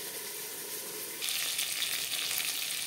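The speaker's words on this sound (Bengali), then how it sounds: "একটা সাইড ভাজা হয়ে গেলে অপর সাইডটা উল্টে দেব।" Fish wrapped in bottle gourd leaves fries in a pan with a steady close sizzle that turns brighter and louder partway through, no talk.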